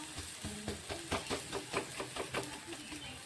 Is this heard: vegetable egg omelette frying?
yes